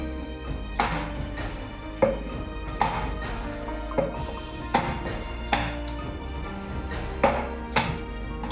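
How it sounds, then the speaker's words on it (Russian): Repeated wet slapping thuds as minced chicken for lula kebab is slapped to bind it, at a fairly even pace, about a dozen sharp smacks in a row, close and fairly loud. "Затем фарш отбить для скрепления."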